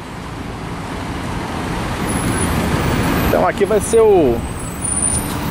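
Scania charter buses run by Breda and Piracicabana roll out of the factory, with steady roadway rumble and passing engine noise building over several seconds. Someone speaks briefly near the end.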